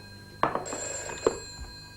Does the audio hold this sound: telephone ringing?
yes